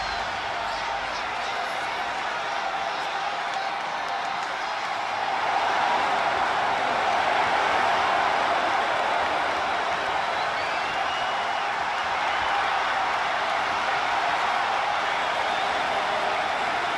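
Arena crowd roars and cheers in WWE 2K25 as The Rock and John Cena face off at WrestleMania; a steady, dense wall of crowd noise swells louder after a few seconds and holds throughout, with no clear talking.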